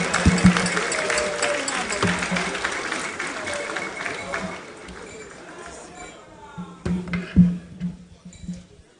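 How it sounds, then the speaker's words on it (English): Audience applause at the 2024 National Science and Maths Quiz grand finale, a broad clatter of clapping loud at first, thinning through the middle and swelling again near the end, with voices mixed in. "A round of applause, please, as he joins us on stage"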